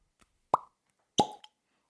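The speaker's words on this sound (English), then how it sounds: "pause for cork pop" A cork pulled from a Wilderness Trail bourbon bottle gives two sharp, close pops about half a second apart, each with a short hollow ring, plus a faint tick after, in an otherwise quiet room.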